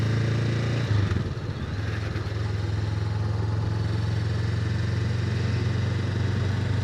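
A 2025 Honda Rebel 500 motorcycle engine running steadily with a low, even drone, a brief change in pitch near the start as it pulls away, then a sustained hum nearby.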